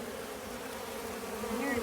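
Honeybees buzz at their hive in February, a dense steady drone of many wings close by, with one bee rising in pitch as it passes near the end.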